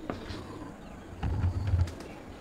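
Domestic pigeons in a loft give soft, low, burbling coos in a short burst midway through, over quiet background noise.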